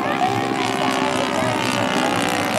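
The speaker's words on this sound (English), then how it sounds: "we got some control planes up there, folks" Propeller-driven control planes flying overhead at an air show, a loud continuous droning engine roar that holds steady throughout.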